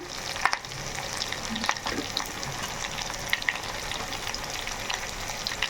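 Onion frying in oil for bagara rice, a steady close sizzle with occasional stirring clicks throughout, no voices.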